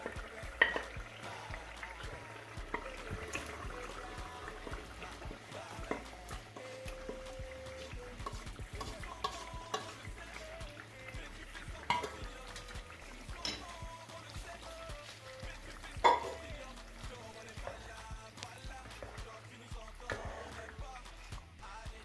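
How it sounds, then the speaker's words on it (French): Beans poured into a pot of tomato sauce for Ghanaian red-red, then stirred, giving a low steady simmering sizzle with soft wet scraping and occasional clinks, fairly close and continuous without talk. "Donc là, je vais verser le haricot dedans."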